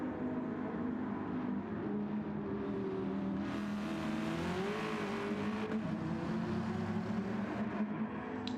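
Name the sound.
racing car engine in a video game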